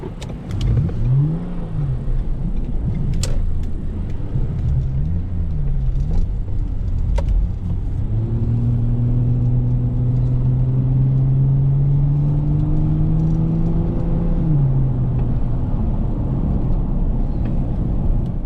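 A car drives along a road during a steering pull test, its engine a steady mid-pitched drone under continuous road and tyre rumble, rising in pitch as it accelerates midway and with occasional small knocks.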